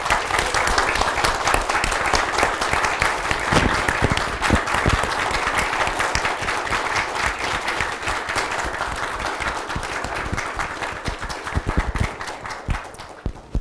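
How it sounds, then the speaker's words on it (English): An audience at a May 2022 Eagle Scout court of honor rises and applauds Eagle Scout Annie Craig, sustained dense clapping for about thirteen seconds that thins briefly near the end. "Will the audience please rise and give Eagle Scout Annie Craig a round of applause."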